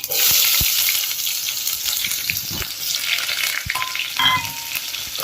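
Sliced onion sizzles loudly in about three tablespoons of hot oil with tempering spices, fenugreek seeds and dried red chillies, a steady broadband frying hiss with a few soft stirring clicks throughout.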